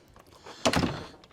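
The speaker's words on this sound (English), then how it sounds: "Latch the Dutch door." A wooden Dutch door on a vardo swings shut and latches with a single solid thunk and brief rattle, close and alone.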